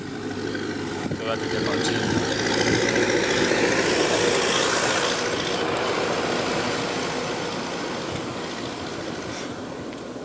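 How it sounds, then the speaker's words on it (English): A tractor engine runs steadily nearby as it passes along a rural path, a broad low mechanical rumble swelling and holding through the middle before easing, with someone talking over it. "I'm waiting for this tractor to pass"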